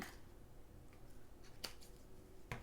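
Faint scissors snip paper while trimming a cracker gift box, two or three quick, quiet cuts heard close up in a hushed room.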